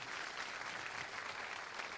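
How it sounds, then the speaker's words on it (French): Steady applause from a crowd at an award ceremony, dense even clapping that continues throughout, moderately distant and without voices on top. "Voilà, on peut applaudir Mélisse Carcassonne."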